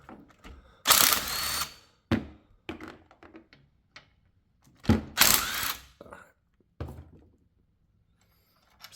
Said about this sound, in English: now you got your 5/16 socket. You're gonna come over to this side, undo that bolt